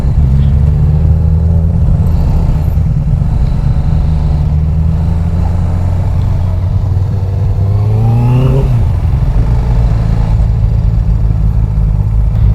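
A modified Benelli 600i motorcycle engine running steadily near the microphone, with a rising rev and pass-by swell around the middle before it settles back to a constant drone.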